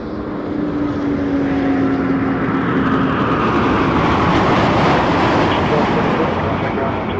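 Broadband jet engine roar from an airliner taking off on runway 05 at Toronto Pearson Airport, loud and steady throughout with a faint whining tone early on, alongside nearby radio-style voice chatter.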